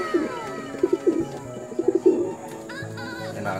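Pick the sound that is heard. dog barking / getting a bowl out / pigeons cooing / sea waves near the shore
pigeons cooing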